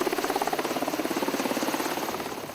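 A military helicopter at an Army National Guard air assault training site, its rotor beating in a fast, steady rhythmic chop that stays loud and close before easing slightly toward the end.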